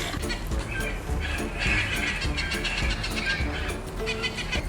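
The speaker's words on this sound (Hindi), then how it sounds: "पैरेट।" Parrot squawks and chatters, played as a sound-guessing challenge; a dense, steady run of shrill calls fills the clip at moderate loudness with no talking.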